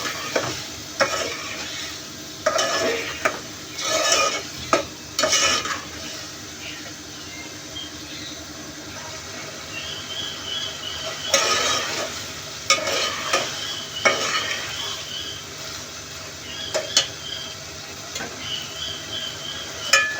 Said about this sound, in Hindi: अरवी अच्छे से भूनना है हमने